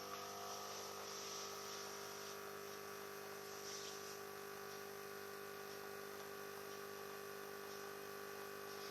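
Tommee Tippee Perfect Prep formula machine running after its button is pressed, a steady low electrical hum and whir that holds evenly throughout, faint and close, with no voices.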